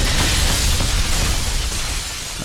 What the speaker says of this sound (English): here's another good area with a lot of scripted explosions